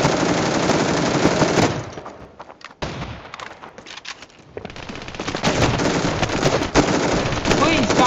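Rapid video game gunfire rattles in loud bursts, then pauses and quieter shots follow before the firing rises again, with someone talking over parts of it.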